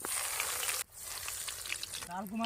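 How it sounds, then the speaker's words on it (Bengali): Vegetable chops made with carrot and beetroot frying in hot oil, a steady bright sizzle that briefly drops and then swells again as more go in, close and clear, with a voice heard near the end. "তেল গরম হয়ে গেছে এবার হচ্ছে হলো ভাজার পালা ভেজিটেবল চপ এক এক করে ছাড়ি দেবো"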